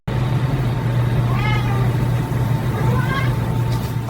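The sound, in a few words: cat meowing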